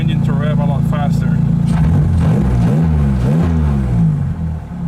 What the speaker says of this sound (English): If you notice, it revs really quickly because I have a Fidanza aluminum flywheel installed